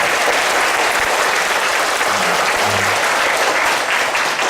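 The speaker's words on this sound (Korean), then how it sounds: "우리 한번 박수." Church congregation applauding, a loud, dense, sustained round of clapping from the whole room with no talking over it.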